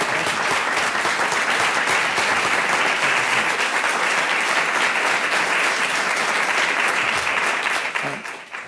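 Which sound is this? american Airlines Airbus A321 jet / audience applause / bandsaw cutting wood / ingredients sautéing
audience applause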